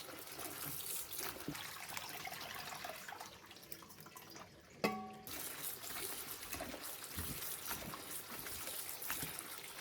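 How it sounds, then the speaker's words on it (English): Squid being rinsed by hand under running tap water: a faint, steady trickle and splashing with small knocks and clicks from handling, plus one brief sharp ringing clink midway, no voices. "Continue to wash and rinse it for a few more times to ensure that salt is totally washed out."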